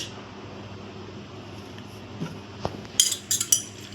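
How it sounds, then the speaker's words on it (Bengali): A spoon stirs yeast into water with sugar in a bowl, light clinks and taps against the side growing louder toward the end over a steady low background hum. "গুলে দিলাম ইস্টটা"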